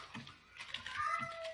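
A pet cat meows fairly close but faintly, a drawn-out rising call over a low hum of game sounds in a quiet room.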